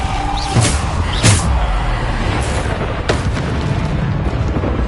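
Bombarda spell explosions in Hogwarts Legacy, loud booming blasts at roughly regular intervals over a dense, constant roar of battle noise, close and heavy.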